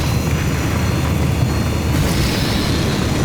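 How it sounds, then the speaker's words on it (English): A tank's heavy cannon fires and explodes in the video game Rage 2, a continuous loud rumbling boom with a dense roaring tail throughout and no talking. "All that is made up for by the big splitty boom cannon."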